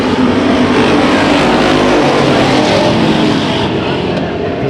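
Race cars in a heat race at Bakersfield Speedway roar continuously at high volume, engines blaring and overlapping as the pack circles the track, a loud unbroken wall of motor noise.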